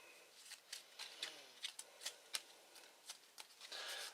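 Arkham Horror game cards are shuffled in quick bursts of soft riffling and snapping, repeated about a dozen times at close range.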